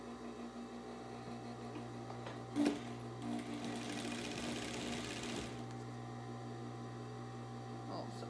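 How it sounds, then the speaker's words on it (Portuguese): Sewing machine stitching fabric and lining together for a doll-shaped bag: a quiet, steady motor hum with a short burst of stitching in the middle and no talk. "costurou uma parte, agora vem com a outra e vamos costurar desse outro lado"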